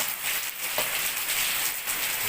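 Steady rain falling outdoors, a soft continuous hiss with a few faint drips and knocks.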